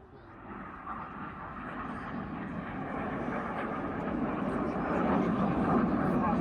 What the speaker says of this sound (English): And coming in from the high right-hand side is red 8, as red 8 spears the Heart.